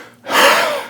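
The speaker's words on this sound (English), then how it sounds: "getting rid of the gasps" A single sharp, loud gasping inhale taken during yoga breathing practice, rising quickly after a brief quiet moment and sustained as a strong breathy rush.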